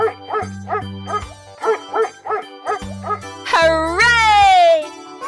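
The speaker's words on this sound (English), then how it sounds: "Dog." Dog barking in a 3D animal slide game, a rhythmic run of short barks over a repeating musical beat, ending in a rising, whining howl-like cry that trails off.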